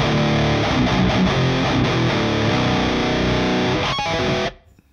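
A Victory VX100 Super Kraken 100-watt amp head gives a loud, heavily distorted electric guitar tone, chugging thick palm-muted chords, then cuts off abruptly into silence.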